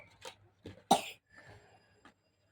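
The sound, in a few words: child coughing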